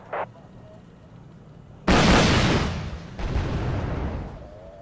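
Rocket explosions hit tanks in a war video game battle: two loud, broadband blasts about a second apart, each trailing into a rumbling decay, with a faint short pop just before.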